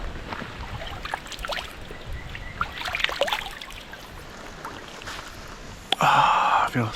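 Rushing water at a big river crossing on a solo adventure motorcycle trip: a steady broadband wash of flowing current throughout, with a sharp louder burst of splashing near the end.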